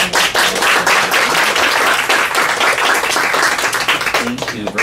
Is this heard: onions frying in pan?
no